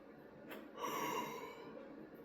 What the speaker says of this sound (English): Big ass yawn.